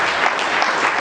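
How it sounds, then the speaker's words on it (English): Applause for a government minister at a formal courtesy call at the state governor's office, a brief burst of dense, loud clapping from a room of people. "I believe the Honorable Minister deserves a big round of applause for us."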